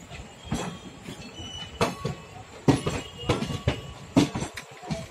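The 14673 Shaheed Express passenger train, hauled by a WAP 1 electric locomotive, rolls past nearby with rumbling wheels, rhythmic clatter over rail joints and occasional metallic squeals.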